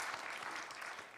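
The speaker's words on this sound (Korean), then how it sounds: "우리 방송반에게 감사의 박수 한번 하죠" A church congregation breaks into steady, dense applause for the broadcast team, filling the hall evenly from start to finish in a brief burst.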